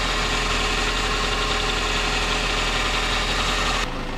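A car engine idles steadily while warming up during an overheating repair, a loud, constant broadband rumble with a low hum that cuts off abruptly near the end.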